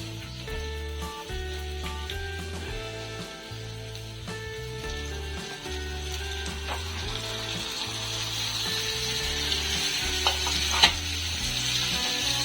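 Washed mutton frying and stirred in a pan for a cucumber mutton curry, a steady oily sizzle building in brightness, with a low droning hum running beneath.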